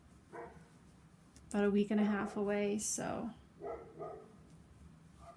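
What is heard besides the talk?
dogs barking outside an open window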